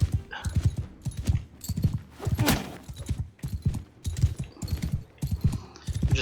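Horse hooves gallop at full speed in the medieval combat game Mount & Blade II Bannerlord, a steady, loud rhythmic clip-clop of repeated beats running throughout.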